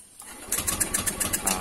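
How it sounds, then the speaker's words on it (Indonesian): A Honda New Scoopy scooter starts up nearby with a brief whirring crank that turns into a quick, steady pulsing idle, running alone at moderate level. "Nah, ini baru motor di starter"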